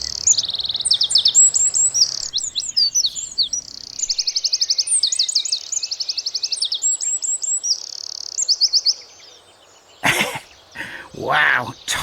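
Close, loud wren song in a garden: rapid trilling bursts and chattering runs repeated in several phrases for about ten seconds, then a voice speaks over the end.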